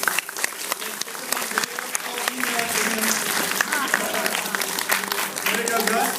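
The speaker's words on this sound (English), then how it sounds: "We get a round of applause for Gus." A crowd applauds Gus at the BLOXcon NYC Hall of Fame, with loud, dense clapping and some cheering that fills the room throughout, sharp individual claps standing out near the start.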